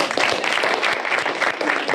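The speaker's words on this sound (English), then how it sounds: "Big round of applause" A small live audience gives a short, steady round of applause, moderately loud and with no speech over it.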